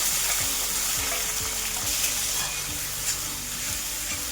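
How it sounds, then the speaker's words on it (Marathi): Tomatoes sizzle in a hot pan with garlic with a steady hiss, punctuated by repeated scraping knocks of a spoon stirring, no voices. "टोमॅटो 1 मिनिटभर आपल्याला परतून घ्यायचा आहे"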